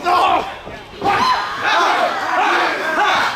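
A hardcore wrestling crowd at a Halloween House of Horrors event roars and chants loudly and continuously, with shouting and scattered cheers rising and falling in waves.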